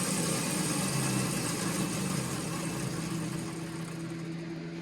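A Neotec 843 43cc chainsaw engine, a Husqvarna 543XP clone, runs steadily on a dyno, a loud, constant high-pitched drone with a low throbbing undertone that holds throughout and eases off slightly near the end.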